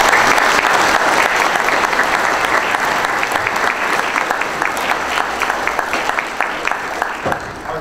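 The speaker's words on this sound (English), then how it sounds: "Folks, just give them a round of applause." Audience applause for sheriff candidates at a Forsyth County, Georgia candidate forum: dense clapping from a room full of people that thins out into scattered individual claps toward the end.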